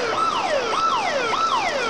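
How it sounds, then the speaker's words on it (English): A parked car's alarm sounds nearby, its loud sweeping tone rising and falling in repeated wails about every half second, steady and without voices. "It's somebody's car alarm."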